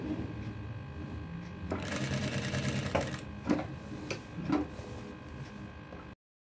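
A sewing machine stitches the side seam of a kameez, its needle whirring steadily and close by with a few clacks partway through before it stops abruptly.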